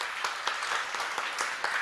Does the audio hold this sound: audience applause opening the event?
yes